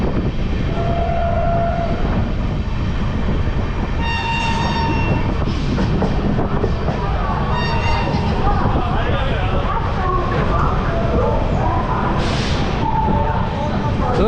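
The 13161 Tebhaga Express running on new LHB coaches gives a loud, steady rolling rumble from inside, with brief horn tones sounding at intervals and voices now and then in the background.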